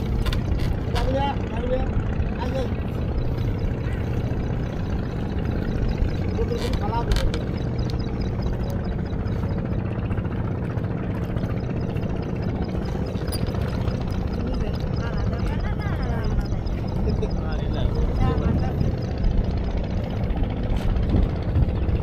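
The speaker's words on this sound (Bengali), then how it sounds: "অনেকক্ষণ ঘোরার পরে আমরা ট্রলারে আসলাম" A trawler boat's engine runs in a steady, continuous drone close by, with people talking over it throughout.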